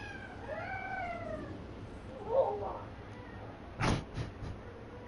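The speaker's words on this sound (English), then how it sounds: "The cat." A house cat meows in the background with a drawn-out, rising and falling call, followed by a few softer, shorter sounds, while people talk faintly.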